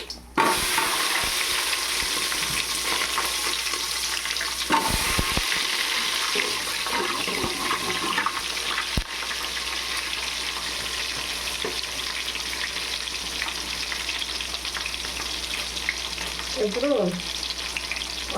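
Chopped onion dropped into hot oil with clove and shahjeera spices in a pan, a continuous loud sizzle with occasional stirring scrapes throughout.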